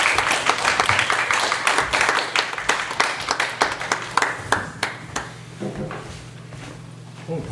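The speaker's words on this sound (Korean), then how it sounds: "김지훈 감독님께 마지막으로 큰 박수 드리면서 이 행사를 마감하도록 하겠습니다" A small crowd claps for a film director at the close of a post-screening talk, with loose, uneven hand claps standing out individually. It thins into sparse, scattered claps toward the end under a low hum.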